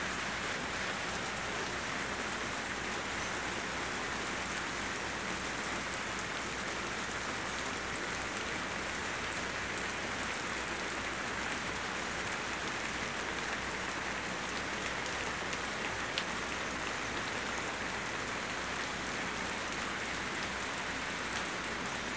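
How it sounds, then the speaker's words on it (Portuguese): Steady countryside rain falls continuously on surfaces in rural farmland, a dense, even hiss of drops with no pauses and no voices. "Meu Deus, como é bom ver essa chuva."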